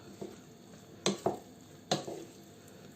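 A squash and lentil filling is stirred in a pan on the stove, with a few scattered metallic scrapes and clinks of a utensil over a faint, steady sizzle, quiet and close.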